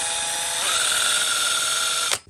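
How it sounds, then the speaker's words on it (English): A power drill spins a car alternator with a steady high whine that shifts pitch partway through, then cuts off abruptly after about two seconds. "Going to hook up our drill to our alternator and we'll see what voltage it's outputting."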